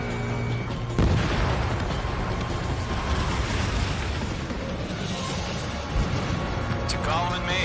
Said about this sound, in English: Bomber hit by a missile.